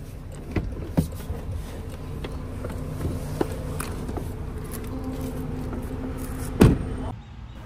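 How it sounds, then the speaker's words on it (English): Power windows on a 2024 Land Rover Defender 110 travel with a low steady motor hum inside the cabin for several seconds, then stop with a short solid thunk near the end. "all the windows are automatic up and down"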